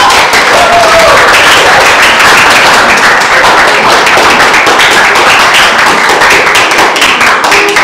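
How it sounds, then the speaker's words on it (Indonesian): Audience applauds a presenting group, loud and close, a dense wash of many hands clapping at once with sharp individual claps standing out, steady throughout without speech. "kita kasih tepuk tangan yang luar biasa untuk kelompok 2"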